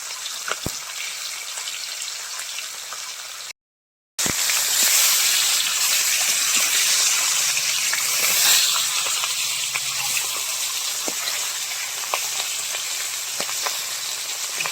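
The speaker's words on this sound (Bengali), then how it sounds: "মাথাগুলো আমি ভালো করে কড়া করে ভেজে নেব লাল করে।" Fish heads fry hard in hot oil, a loud, dense sizzle and hiss that runs on steadily, with brief crackles and one short gap of silence.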